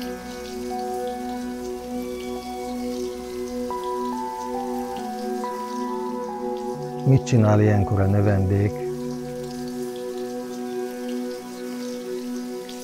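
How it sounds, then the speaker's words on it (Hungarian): Heavy rain pours steadily over a monastery garden, a constant soft hiss running the whole way under sustained musical tones, with someone speaking briefly in the middle. "és zuhog az eső."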